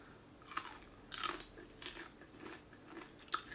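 Crunchy honey-glazed fried chicken skin is chewed up close in a quiet room, giving a few sharp, crisp crunches spaced irregularly over a few seconds.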